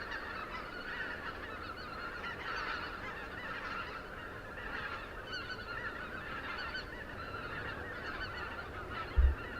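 Flock of snow geese honking overhead at night in dense, continuous overlapping calls, loud and steady throughout, with a brief thump near the end.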